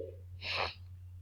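A single short sneeze, faint and close, over a steady low hum during a science class lesson.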